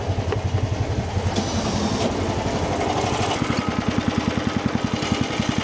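A UTV and a Rammy snowblower idle together after warming up, their engines giving a steady, close, rhythmic low putter with regular pulses and no talking.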